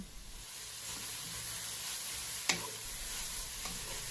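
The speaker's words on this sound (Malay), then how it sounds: "Kacau semua sebati dan menjadi layu." Jicama and carrot popiah filling stirred in a pan, with a steady sizzling hiss throughout and one sharp scrape of the utensil midway, plus a fainter clink near the end; no talking.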